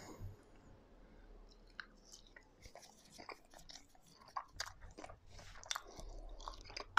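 Close, wet chewing and crunching of naan dipped in spicy sauce alongside chicken tikka garlic chilli, with irregular bites and smacks over several seconds and no talk.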